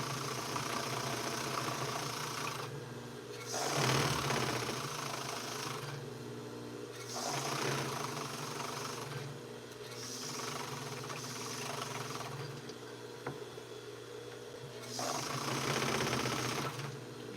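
Serger sewing machine finishing the edges of fabric bands for a duster, running in steady mechanical bursts of a few seconds each, with short pauses between passes, close and fairly loud.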